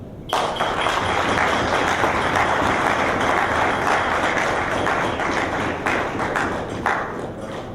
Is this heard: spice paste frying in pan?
no